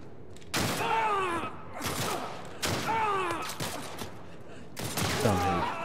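Gunshots in The Last of Us Part I, three sharp loud shots spaced about two seconds apart, each followed by groaning cries, with a further burst near the end.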